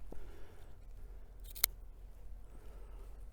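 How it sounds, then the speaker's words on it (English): A single sharp snip from a V-cutter notching the end of a cigar, heard once, close and brief, against steady low wind noise of a snowstorm outdoors. "I'm just going to do a V-cut with this cutter that she also got me."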